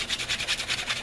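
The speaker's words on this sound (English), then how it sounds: "I use my finer grit, this 140 grit here, and I refine my edges here" Strokes of 140 grit sandpaper refine the edges of a Cold Steel rubber Recon Tanto trainer knife, giving a close, rhythmic back-and-forth rasping of about five quick strokes per second.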